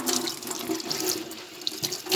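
Tap water running over a cattleya orchid being rinsed after flowering, a continuous close splashing stream with small drips and spatters, no voices.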